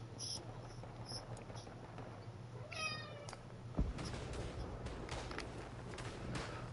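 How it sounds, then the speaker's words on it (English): A pet cat named Miss Polly meows at close range, a few short harmonic cries near the middle, over a steady low hum and faint background sounds. "If you hear a kitty meowing, that's Miss Polly."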